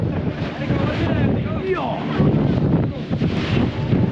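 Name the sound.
boat moving over sea waves in wind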